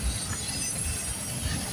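A CN freight train rolls past steadily at close range, a continuous low rumble of railcars with faint wheel noise and no pauses over the short stretch.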